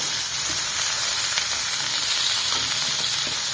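Okra frying in a pan, with a continuous loud sizzle and hiss and a few faint clicks of stirring.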